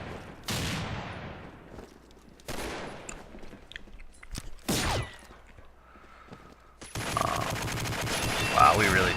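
ParaFal rifle gunfire in the online shooter Combat Arms comes in several sharp bursts separated by gaps, followed by a denser stretch of game noise at the end.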